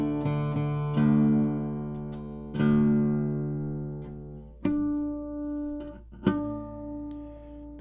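A short-scale acoustic guitar is plucked string by string while tuning down, with single ringing notes struck one after another, close and clear, each decaying slowly before the next pluck.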